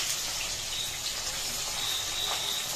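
Tap water runs steadily while raw chicken is washed under it, a constant close rushing gush with no clear breaks and no talk.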